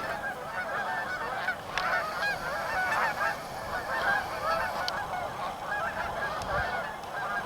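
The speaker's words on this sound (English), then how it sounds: "Lots of geese congregated" A large flock of geese gathered on the ice by river rapids, honking continuously in an overlapping chorus over the steady rush of water.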